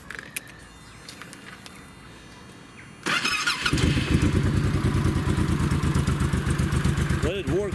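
A Honda VTX motorcycle, freshly refilled with three liters of oil, sits quiet with faint clicks for a few seconds, then fires up and settles into a loud, close, steady idle with a pulsing throb.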